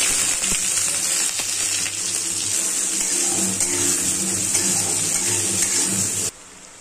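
Cumin and onion frying in oil in a wok, a loud, dense rushing sizzle that holds steady and then cuts off abruptly near the end.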